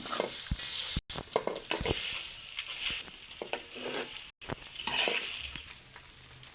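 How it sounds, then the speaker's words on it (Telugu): Masala-stuffed brinjals fry in hot tempering oil, a soft continuous sizzle with scattered clinks and stirring taps from the pan. "ఇప్పుడు మసాలా పెట్టుకున్న గుత్తి వంకాయలని పోపులో వేసుకుందాం"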